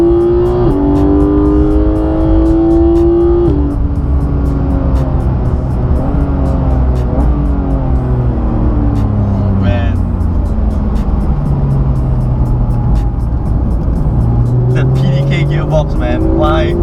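A Porsche 911 GT3 at full throttle on the Sepang circuit, the engine note climbing through the revs, dropping sharply at each upshift and rising again, loud and continuous from inside the car.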